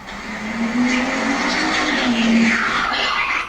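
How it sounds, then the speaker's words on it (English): A car screeching and speeding toward a man on a residential drive, a sustained tire squeal rising and bending in pitch under a loud engine rush, lasting a few seconds. "He turns around at the sound of a screeching car speeding right into him."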